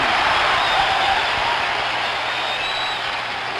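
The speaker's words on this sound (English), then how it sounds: "this crowd, a crowd that was spent, has come to life" A crowd at the 1975 World Series Game 6 between the Reds and Red Sox roars after a game-tying three-run homer, a broad, steady wash of distant cheering that holds throughout and eases slightly at the end.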